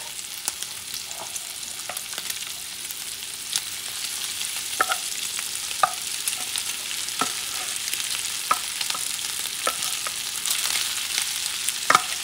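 Rice being stirred in a pan with smoked sausage, bacon and salted pork, a soft steady sizzle broken by scattered scraping clicks of the spoon, close and moderately quiet, with no talking.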